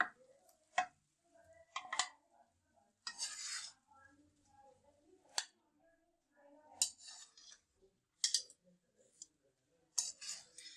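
Metal utensils clink and scrape against a pot and dish while chicken karahi is served, faint intermittent taps and stirring scrapes with quiet gaps between them.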